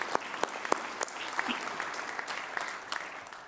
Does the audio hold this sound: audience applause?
yes